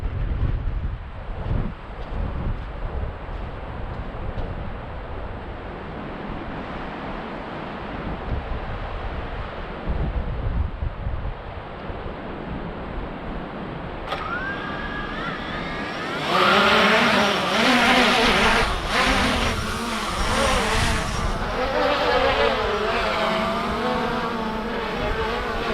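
A Hubsan Zino 2 drone lifting off in strong wind: steady wind buffeting the microphone, then a rising whine as the motors spin up, turning into a loud high-pitched propeller buzz that continues to the end.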